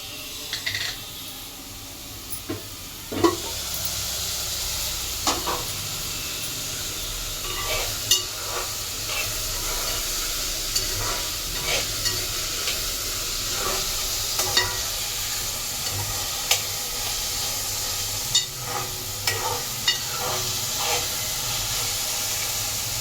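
Onions and tomatoes soften in a pan for a fish curry, with a steady close hiss and sizzle broken by intermittent scraping stirs and spoon clinks, no talking.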